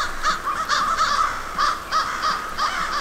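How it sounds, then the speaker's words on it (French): A flock of crows caws repeatedly in the winter evening sky over a town, many harsh calls overlapping in quick irregular bursts at moderate distance above steady background hiss. "le ciel se remplit de corneilles qui se recherchent un endroit où passer la nuit en groupe"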